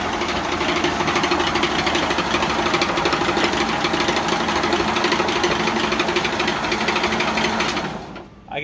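A new molino grinding machine on its first run, a loud steady mechanical whirring and rattling drone that holds for about eight seconds before cutting off abruptly at the end.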